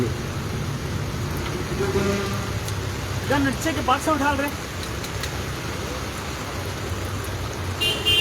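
Rain falls steadily outdoors, a broad, constant hiss filling the whole stretch, with people talking and a brief car horn rising over it midway.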